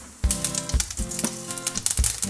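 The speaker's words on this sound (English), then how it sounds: "Let's put the mustard seeds and allow it to splutter." Mustard seeds splutter in hot oil for tamarind rice, sharp close popping bursts over a constant loud sizzle, crackling in quick irregular clusters.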